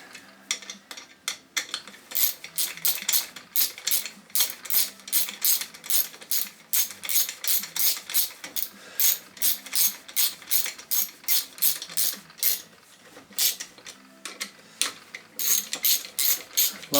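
A wrench's ratchet clicks in fast, steady bursts while bolts are turned on a Lucas 16 ACR alternator from a classic Mini being stripped down, with close, loud repeated pawl ticks and short pauses between runs.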